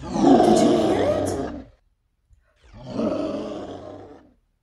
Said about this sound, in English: It sounded like a roar.